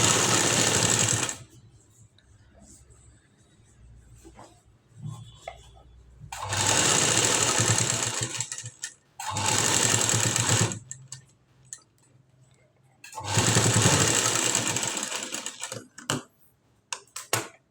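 Loud, close sewing machine runs stitch a folded edge for hooks, several whirring bursts of a few seconds each with quiet handling gaps between them.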